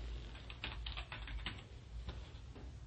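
Faint quick keystrokes on a computer keyboard as a preset name is typed into music software, a short burst of soft clicks over steady background hiss.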